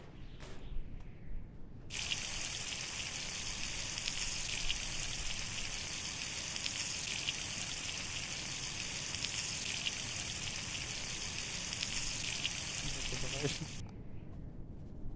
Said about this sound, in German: Lass mal Wasser auffüllen.